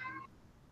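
A house cat gives a single short meow at the very start, close and clear, then only quiet room tone.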